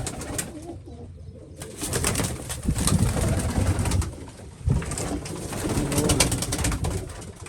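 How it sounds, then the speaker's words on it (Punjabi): Cooing from a red-spotted female pigeon in a loft, a continuous murmur of calls over a busy, noisy background with a few louder swells. "ਆਹ ਜੀ ਆਪਣੀ ਲਾਲ ਡੱਬੀ ਕਬੂਤਰੀ ਆ"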